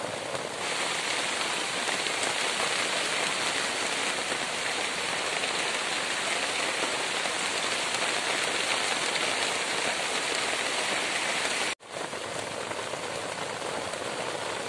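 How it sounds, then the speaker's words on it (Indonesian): Heavy rain pours onto a small, simple shelter of grass and leaves at a solo campsite. The downpour is a loud, dense, unbroken roar that cuts out for an instant near the end and then resumes. "Hujannya lumayan deras."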